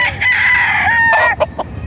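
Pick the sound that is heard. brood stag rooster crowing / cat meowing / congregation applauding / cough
brood stag rooster crowing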